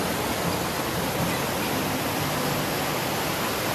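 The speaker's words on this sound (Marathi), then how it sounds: "खूप असा पाण्याचा आवाज येत आहे।" A monsoon-swollen river at Kolad rushes past in a dense, unbroken roar of broadband water noise, loud and close, with no voices.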